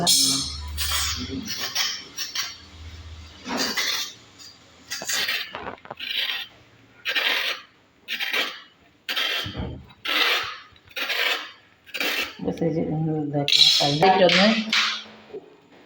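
A knife scrapes the skin off a raw plantain in a home kitchen. Close, rasping strokes repeat in a steady rhythm, with a voice talking briefly near the end.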